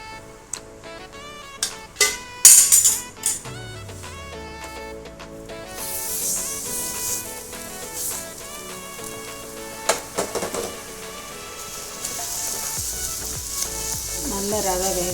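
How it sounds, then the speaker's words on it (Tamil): Semolina roasts in oil in a pan for a sweet, a soft steady sizzle with occasional stirring taps, mostly under background music. "இதில் கொஞ்சம் எண்ணெய் ஊற்றிக்கலாம். இதில் ரவையை போட்டு வறுத்துக்கலாம்."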